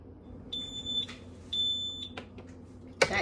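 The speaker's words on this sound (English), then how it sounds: "That is our timer." A kitchen timer sounds during the cooking of non-alcoholic cherries jubilee, giving two high electronic beeps of about half a second each, then a short clatter nearby.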